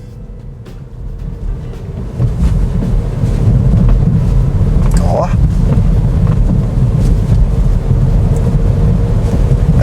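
Interior rumble of a new Chevrolet Tracker with about 5,000 km driving at 50 km/h over a suspension and interior-noise test track, steady loud low road and body noise with jolts, under brief speech.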